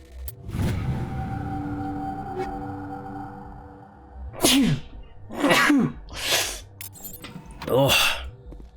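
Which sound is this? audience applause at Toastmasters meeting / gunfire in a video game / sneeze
sneeze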